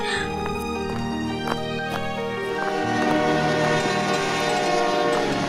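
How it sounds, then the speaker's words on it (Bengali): A train rolls into Dholpur station with a loud, sustained horn and tonal squeal over rumbling wheels, metallic clicks sounding as it slows. "এরপর ট্রেন ঢোলপুর স্টেশনে গুঞ্জনকে নামিয়ে দেয়"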